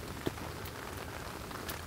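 Soft, steady patter of rain falling on a surface, quiet and continuous, with one brief tap near the start, during spring black bear season in Ontario.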